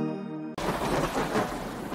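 A broad rolling thunder rumble fills a regional disaster warning announcement, entering after a brief sustained musical tone and continuing loudly for over a second.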